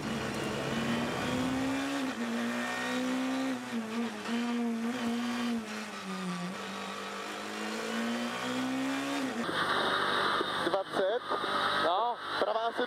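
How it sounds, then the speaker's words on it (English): A Skoda rally car engine drones with wavering pitch, then breaks into sputtering, uneven bursts and pops as it misfires, with talk over the noise. "the engine of Kopecki's Skoda starts to misfire"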